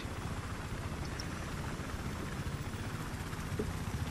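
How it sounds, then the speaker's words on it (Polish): A helicopter in Battlefield 3 makes a steady, low, faint rotor drone with no talk over it. "O, helikopter!"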